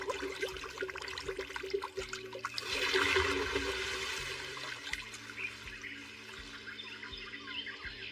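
Water conjured by a mage's spell in an anime surges up as a swelling rush, peaking early and settling into a steady flow over low sustained musical tones.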